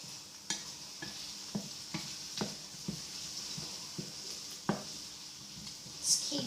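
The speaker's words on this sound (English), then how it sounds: "Just keep giving them a stir." Cooked potatoes sizzle in oil in a frying pan on a hob at medium heat for potato hash, while a utensil scrapes and taps the pan in a steady rhythm of soft, close clicks over the constant hiss.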